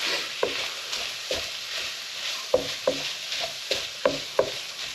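An enchilada filling mixture cooks in a pan, a steady soft sizzle broken by repeated scraping stirs at an uneven rhythm, close and moderately loud with no talking.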